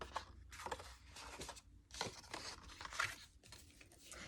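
Paper being cut with scissors while making a two-part treat box, with a series of close, dry crinkling and tearing snips in irregular bursts and short pauses between them.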